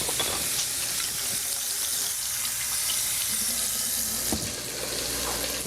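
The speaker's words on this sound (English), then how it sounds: "Give that a minute while I wash all this chicken off my hands." Steady running water from a tap pours continuously over hands being washed, with faint clinks and a soft sizzle in the background.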